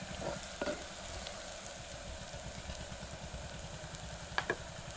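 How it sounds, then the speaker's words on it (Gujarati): Onions frying until browned in a clay pan, a steady soft sizzle with a faint crackle, a couple of clinks near the start and end, and no talking. "ડુંગળી તો લાલ થઈ ગઈ, જો મસ્ત સડી ગઈ છે."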